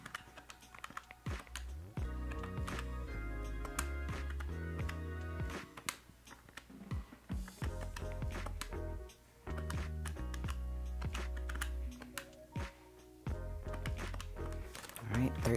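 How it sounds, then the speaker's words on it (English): Calculator buttons are pressed in quick bursts of close, light tapping while totalling paycheck budget figures, with pauses between runs and a voice speaking over parts of it. "grab my calculator again and calculate all of this up"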